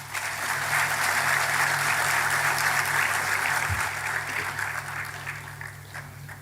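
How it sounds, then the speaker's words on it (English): Conference audience at NICMAR University in Pune giving an enthusiastic welcome to dignitaries taking the dais, a loud, continuous round of clapping over a faint hall hum that eases off toward the close. "We request the audience to kindly welcome them with an enthusiastic applause"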